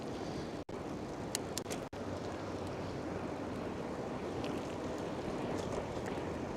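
Wind blows steadily outdoors on a cloudy day at a balloon fiesta, a broad rushing roar buffeting the microphone throughout, with a few faint distant clicks and no talking.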